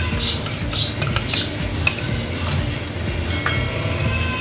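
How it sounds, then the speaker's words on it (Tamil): Grated coconut being stirred into broad beans frying in a pan, with a steady soft sizzle and scraping spoon strokes throughout, close and alone. "கொஞ்சம் தேங்காய் பூ சேர்த்துக்கிறேன்."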